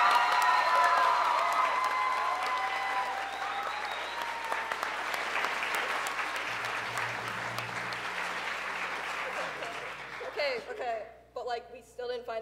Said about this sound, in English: Let's get a warm round of applause for all of our talented directors and actors tonight.